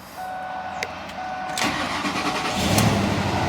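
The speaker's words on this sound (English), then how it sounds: "Let's see if this thing will just fire up." A Lincoln Navigator with a cylinder 2 misfire cranks with a brief whir and then catches, rising into a loud, rough idle close to the microphone with no voices heard.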